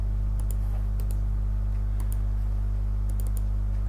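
Short bursts of computer keyboard typing, with a few quick keystrokes in clusters spaced about a second apart over a steady electrical hum.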